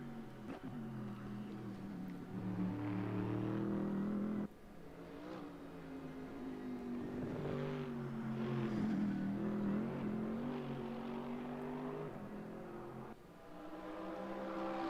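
Race car engines roar continuously at Autodrom Most during an ADAC GT Masters race with Porsche and Mercedes GT cars, a loud sustained drone with rising and falling revs and brief dips as cars shift or pass.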